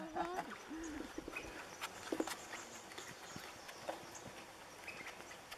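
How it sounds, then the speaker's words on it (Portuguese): A pony pulling a small cart on a ride clip-clops at a steady walking rhythm, hooves ringing sharply and close over quiet outdoor ambience. "O que, que você tá achando desse passeio de pônei?"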